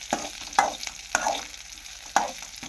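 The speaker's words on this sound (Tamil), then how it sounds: "பச்சை மிளகாவை நல்லா கூட நல்லா போட்டு கிளறி விட்டுருவோம்" Slit green chillies stirred in a frying pan for a mango and curd dish, a soft sizzle under a few sharp scrapes of a spoon against the pan at uneven intervals.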